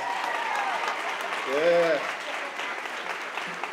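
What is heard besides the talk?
applause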